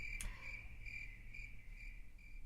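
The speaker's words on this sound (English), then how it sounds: "Insert cricket sound, right?" Crickets chirp in regular pulsing bursts throughout, preceded by a brief sharp click near the start; no one speaks.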